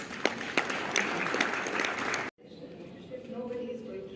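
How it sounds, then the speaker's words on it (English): Loud, dense applause from a crowd for a couple of seconds, cutting off abruptly into a quieter room with faint murmuring. "That deserves a big round of applause."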